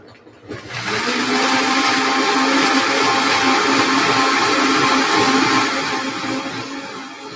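A countertop blender runs at high speed, grinding nuts smooth: a loud, steady whirring roar starts abruptly and holds for several seconds, then eases slightly at the end.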